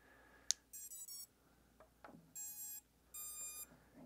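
A GEPRC FPV freestyle quadcopter powering up into bind mode gives a sharp click, then a series of bright electronic beep tones in short bursts with pauses between, faint ambient room noise underneath.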